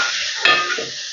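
Crushed mudavattu tuber drops into a pan of sizzling ginger and garlic for soup, a steady bright hiss with a soft thud and a surge of frying partway through.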